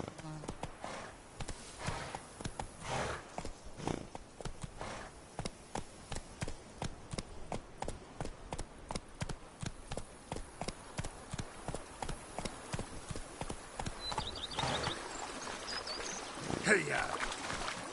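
Roach, a horse in The Witcher video game, gallops with steady rhythmic hoofbeats that run quickly and evenly across the ground, then slow and break up near the end.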